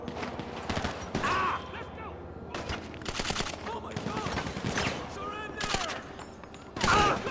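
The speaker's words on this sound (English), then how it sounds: "Hide behind something until he stops shooting!" Gunfire in GTA 5, bursts of rapid shots and single cracks scattered across the scene amid shouting voices and mechanical clatter.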